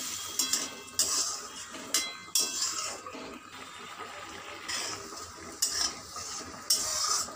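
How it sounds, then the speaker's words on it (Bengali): Spinach gathiya gravy bubbles in a pot, a soft simmering hiss broken by brief, bright bursts of spoon and pot clatter at irregular intervals. "আমার ঝোলটা ফুটে উঠেছে।"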